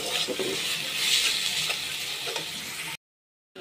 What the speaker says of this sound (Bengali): তো আমার লাল শাক হয়ে গেছে, আরেকটু হবে, হলেই আমার লাল শাক রান্না শেষ হয়ে যাবে।